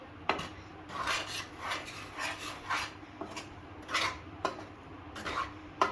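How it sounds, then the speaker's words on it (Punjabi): Water chestnut flour roasts in ghee in a pan for barfi, with a spoon scraping and tapping against the metal in repeated strokes, close and moderately quiet, with no talking. "ਹੁਣ ਆਟਾ ਜਿਹੜਾ ਇਹਨੂੰ ਭੁੰਨਾਂਗੇ ਇਹਦੇ ਵਿੱਚ ਘੀ ਦੇ ਵਿੱਚ ਮਤਲਬ ਚੰਗੀ ਤਰ੍ਹਾਂ ਇਹਨੂੰ ਭੁੰਨਣਾ ਹੈ"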